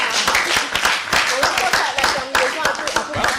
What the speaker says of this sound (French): applaudissements pour Lynn.